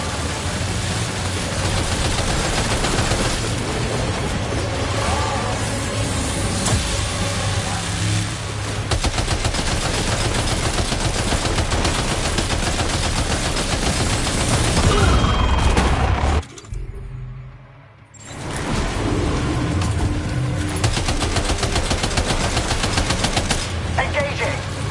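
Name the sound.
gunfire in video game Death Stranding 2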